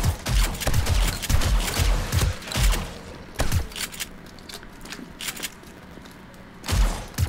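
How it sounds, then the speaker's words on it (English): Shotgun blasts against a zombie horde in the survival game 7 Days To Die: a rapid run of heavy booming shots, then scattered thuds and impacts, with a few more loud bursts near the end, no talking. "Shotgun works really well on these guys."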